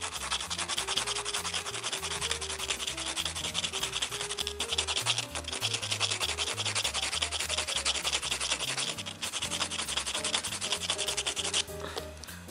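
Continuous rhythmic scraping and rubbing of sandpaper against a plastic Rubik's cube corner piece, rounding its edges, loud and close throughout, with no speech.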